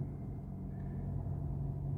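A 2022 Mercedes C-Class engine starts and settles into a steady, low idle rumble, heard from inside the cabin at a moderate level with no talk.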